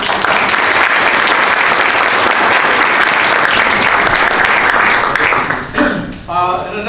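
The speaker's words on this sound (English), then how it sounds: "another round of applause for Dr. Sletten" After a lecture on climate change and human health, an audience breaks into loud, sustained applause, a thick roar of many hands that fades near the end as a speaker's voice takes over.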